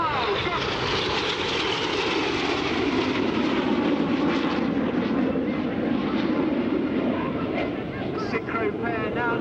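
Red Arrows jet aircraft at the 2015 Sanicole Air Show produce a loud, continuous roaring rush that swells and shifts as they turn, with a commentator's voice over the engine noise.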